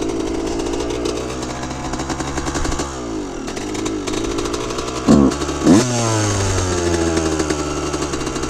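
A motocross motorcycle engine runs steadily once the fuel is turned on, with two sharp revs and rising pitch sweeps partway through before it settles back to a loud, close idle; no one talks.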